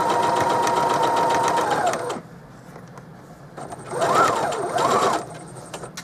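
A sewing machine stitches a quarter-inch seam on fabric placemats, a close rapid whirring chatter that runs for about two seconds, pauses, then runs again in a shorter burst, with a little speech alongside.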